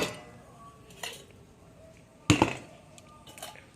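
Dishes and metal utensils clink while rice is served in a home kitchen: scattered soft taps, then one sharp loud clatter, over low background hiss.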